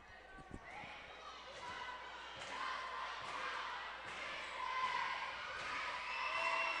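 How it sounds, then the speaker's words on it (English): A crowd in a gym at a girls high school basketball game, California Trojans against Laurel Spartans, cheers and roars steadily through free throws, building in volume, with a few sharp ball or floor thuds early and a commentator talking over it. "Really hear the crowd come alive on the California side on the free throws."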